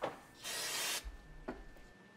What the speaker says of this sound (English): clean the mating surface with a wire brush, then rags and brake cleaner